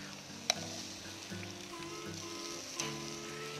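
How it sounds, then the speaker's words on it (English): Sauced ribs sizzling on a modified barrel grill, a steady soft crackle and hiss with a few sharp pops, heard close and alone. "Then we'll go ahead and put them on our modified grill to get that sauce caramelized"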